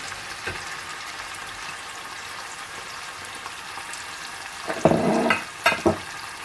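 Frozen vegetables fry in a hot pan for Chinese egg fried rice, a low continuous sizzle swelling into loud, crackling bursts of spitting oil near the end.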